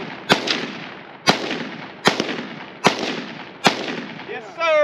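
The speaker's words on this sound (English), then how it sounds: "That's how you shoot, baby." Five sharp gunshots ring out at an outdoor gun range, evenly spaced about a second apart, each loud crack trailing into a brief echo before a voice starts talking at the end.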